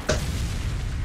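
A helicopter crashes and explodes in the Arma 2 video game, one sudden sharp blast followed by a rumbling low roar that fills the remaining second, heard alone.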